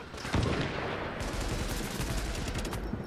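Rapid automatic gunfire in the video game The Division, a dense continuous burst of shots, loud and close, with no talk over it.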